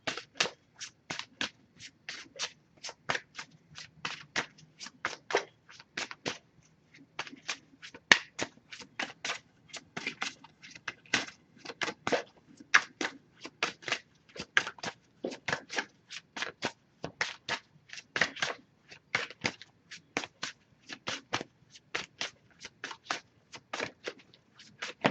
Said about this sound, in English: Just going to pull a single card from this deck.